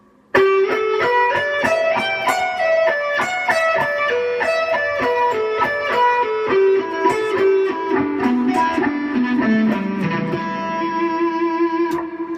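An electric guitar plays a lick slowly as single notes with a slightly effected tone, each plucked one by one and clearly spaced, ending on a held note.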